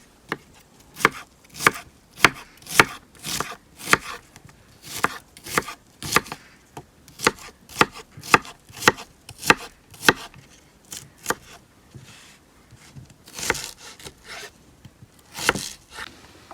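Garlic being chopped into pieces with a knife on a board, a long run of sharp, close, dry knocks coming in irregular bursts with brief pauses, no talking.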